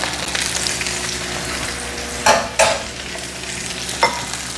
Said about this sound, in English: Now, we're browning these pork chops and they will not take long because they're thin.